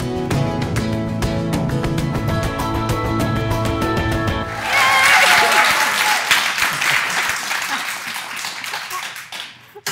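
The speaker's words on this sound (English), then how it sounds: "how nice to start a show with applause" Studio audience applause welcomes the opening of a special talk show edition with hosts Kelly and Michaela, fading in loud over music, swelling to a dense peak midway, then tapering off toward the end.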